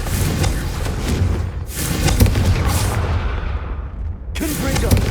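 Repeated deep booming blasts of the Confringo fire spell in Hogwarts Legacy, rolling one after another with rumbling tails, each burst followed by fading crackle before another loud hit at the end.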